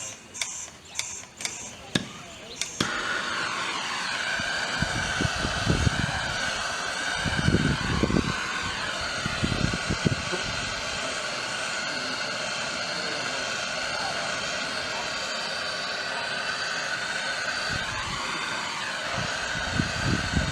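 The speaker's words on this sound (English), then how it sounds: "So we bring out the nice little blowtorch again" A blowtorch preheats the burner of a Stanley Model 76 steam car, roaring steadily after a few opening clicks and bangs, with people talking over the hiss and occasional knocks.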